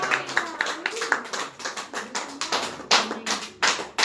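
A church congregation gives a round of applause for church unity, heard as sharp clap bursts in an uneven rhythm over about four seconds, fairly close, with some voice sounds between.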